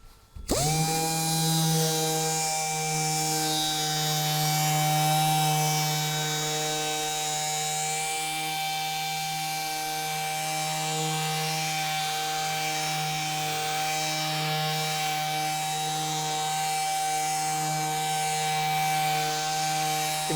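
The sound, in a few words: Dynabrade finish sander applying wax to wood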